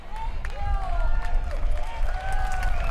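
A rally crowd applauding and cheering outdoors, a dense wash of clapping under whistles and shouted voices, loud and sustained throughout.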